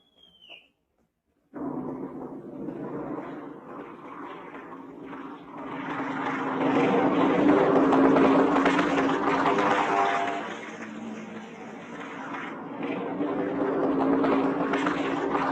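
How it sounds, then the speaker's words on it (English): WW2 carrier warplanes taking off from a flight deck in a Philippine trade wind, a loud sustained roar of propeller engines that swells and holds for several seconds, then stays heavy and continuous. "Our entire air group thunders out behind the group commander."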